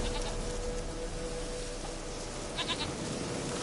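A goat in The Witcher 3 bleats in a short burst near the end, over a steady bed of outdoor game ambience and background noise.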